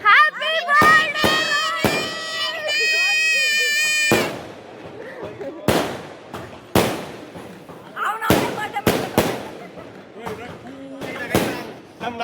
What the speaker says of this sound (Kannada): ನಿನ್ ಪಟಾಕಿ ನೀನೇ ಹೊಡ್ಸಿದ್ಯಾ.